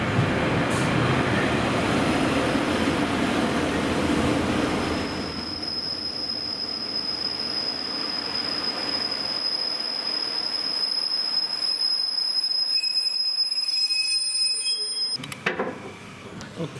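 A Pacer train pulls into a station with a loud rumbling roll and a sustained high metallic wheel squeal that rings for several seconds before the noise drops away as it slows.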